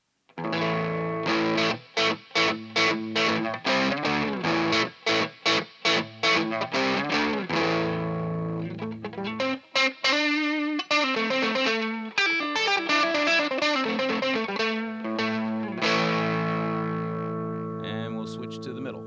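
Electric guitar on the neck pickup played through a Boss BD-2 overdrive pedal fitted with the EDNP Flex Pro mod, sounding as distorted, sustained chords and choppy staccato strums with brief gaps, close and clean of talk.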